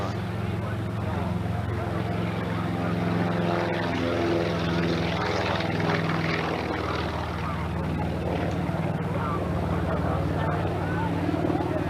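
A Lockheed C-60 Lodestar propeller airplane at an air show drones loudly and continuously with a deep throbbing engine tone, while a voice talks over it throughout.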